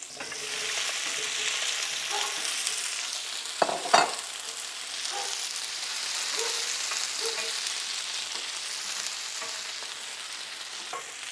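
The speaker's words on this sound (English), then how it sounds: "a couple tablespoons of butter. Let that melt. And then we'll add the pearl onions." Pearl onions fry in melted butter with a little cooking oil, giving a steady, close sizzle with light crackle and a couple of louder stirring clacks partway through; no one speaks.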